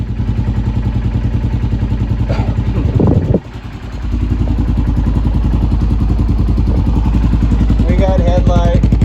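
A one-owner 1985 Honda XR350R single-cylinder dual sport thumper idling close by, a steady loud low throb that dips briefly, then resumes its even beat, with a voice talking over it.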